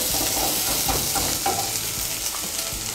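Onion and tomato fry in a pan with a loud, dense, continuous hiss, while stirring adds soft scraping and light clatter throughout, heard up close with no voices.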